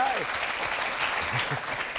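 A television studio audience applauds in a steady, continuous wash of clapping from start to finish, with a voice briefly speaking over it.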